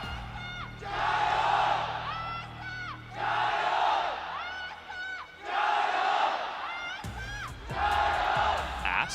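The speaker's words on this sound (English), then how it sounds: "I think they're cheering." A large arena crowd at an esports grand final chants in rhythmic bursts, four loud surges of massed voices rising and falling with pauses between, commentators faintly talking underneath.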